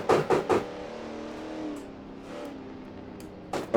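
A Ford Mustang Boss 302 in a racing video game revs along a track, with a sustained engine tone rising and falling between sharp bursts at the start and end, close and fairly loud.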